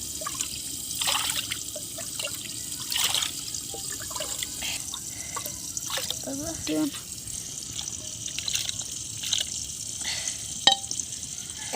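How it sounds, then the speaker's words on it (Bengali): Running water trickles steadily as meat is washed in a village kitchen, with soft splashes and drips and a voice talking over the flow. "এখন আমি মাংসটা ভালো করে ধুয়ে নিব।"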